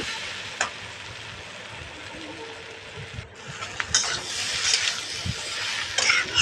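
Eggs are stirred into sizzling chilli chicken in a pan, a steady frying hiss with scattered scraping and stirring knocks from a spoon, growing louder and busier toward the end, with no talking.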